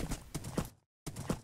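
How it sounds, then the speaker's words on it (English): Horse hooves clip-clop in a quick, even rhythm in a realistic live-action Minecraft parody, a few close, soft thuds broken by a brief silent gap. "So let's ride the horse and kill."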